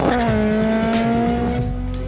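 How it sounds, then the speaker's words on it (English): Ford Fiesta R5 rally car in Wisła, Poland, revving hard past the listener with a loud, sustained tire squeal over a steady engine note, close and continuous. "we are watching a bunch of rally cars"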